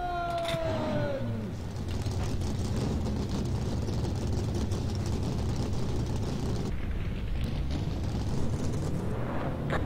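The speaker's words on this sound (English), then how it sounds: "Drivers, start your engines!" Race car engines fire up together in the NASCAR Racing 2003 (NR2003) sim, a steady loud roar that holds for nearly the whole stretch after a short tonal sweep at the start.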